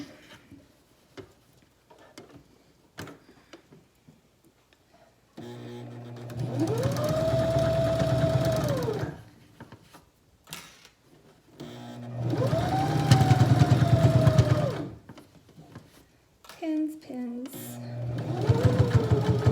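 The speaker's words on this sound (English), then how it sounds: "the sound of the sewing machine is always like been a really a good memory for me" A sewing machine whirs steadily in two long runs and a shorter burst, its motor hum rising and settling, with a person speaking briefly between runs.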